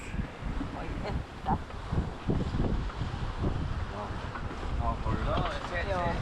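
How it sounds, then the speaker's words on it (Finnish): Wind buffets the microphone over the wash of Pacific Ocean waves aboard a sailing yacht, steady throughout, with voices talking now and then over it. "On vähän enempi tuulta ja aaltoa ollut tässä"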